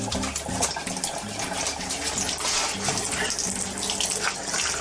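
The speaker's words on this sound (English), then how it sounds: "Number 1, wash your hands." Tap water runs steadily into a sink while someone washes their hands, a continuous loud splashing stream with no pauses.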